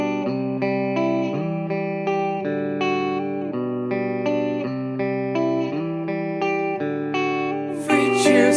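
The band's song plays in a full mix with distorted guitars and steady sustained chords that shift every second or so, loud and continuous, swelling into a brighter crash near the end.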